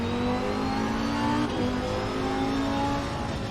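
A race car engine in Assetto Corsa Competizione, played in VR at Spa-Francorchamps, drones steadily at high revs with a constant harmonic whine, loud and close, with no voices.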